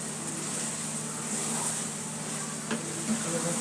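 Chickpeas with turmeric are stirred and fried in a pan, giving a steady, close sizzle with scraping stirs and an occasional clink near the end.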